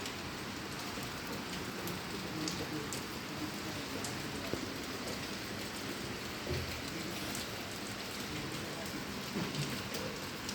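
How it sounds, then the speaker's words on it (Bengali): Moderate rain falling steadily in Sylhet, a dense even hiss of drops on surfaces with occasional closer patters, constant throughout with no talk. "মোটামুটি বৃষ্টি আর আলহামদুলিল্লাহ।"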